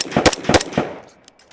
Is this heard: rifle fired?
yes